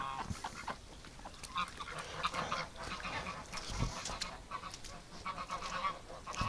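Ducks in a muddy winter pen give a continuous honking, quacking chorus that stays fairly loud throughout, with footsteps squelching through the mud close by.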